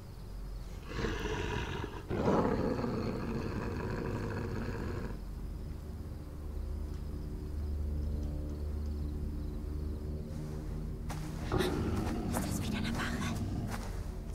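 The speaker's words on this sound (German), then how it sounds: "zu knurrig. Es ist ein Bär." A bear in the video game The Quarry growls and roars in long, deep, rumbling bursts that repeat over several seconds, loud and close, with people talking partly over it.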